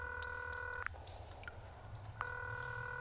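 Telephone dialing in a video game produces a steady dual-tone beep that breaks for about a second around a short click, then resumes, quiet and electronic.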